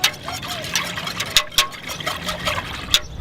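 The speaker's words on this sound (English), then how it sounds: "we get this stirred up here with our whisk" A whisk stirring apple cider vinegar sauce in a pot, brisk liquid sloshing with repeated light metallic taps and clicks against the pot, fairly close and with no talk.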